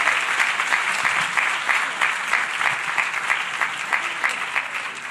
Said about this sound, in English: Let's give it the last round of applause.